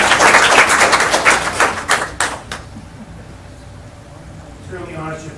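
Short burst of clapping at a borough council meeting as a certificate is presented, fairly close and fading out after about two and a half seconds, leaving a quiet room with faint murmuring.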